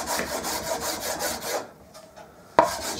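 A bar of buffing compound is rubbed across an MDF board screwed to a wooden block in a vise, making a close, steady scrubbing hiss that fades and ends in a sharp knock.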